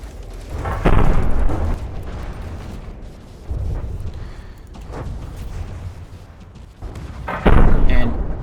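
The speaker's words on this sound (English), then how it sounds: "This cram cannon cannot hit anyway." A CRAM cannon fires in the naval combat game From the Depths, heavy booms and thumps sounding several times at uneven intervals over a rumbling battle backdrop, loud and close.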